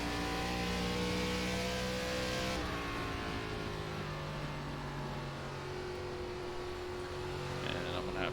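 Race car engines howl in iRacing NASCAR ARCA Series gameplay at Phoenix, a loud sustained whine that shifts pitch as a car accelerates, with tonal engine lines throughout.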